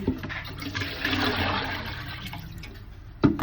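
A weak stream of tap water runs steadily while fish is being washed, a continuous splashing wash with no voices over it.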